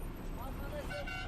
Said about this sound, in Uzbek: Shofyorimiz har daqiqada bip bap qilib avtobusni baqirtirib ketyapti.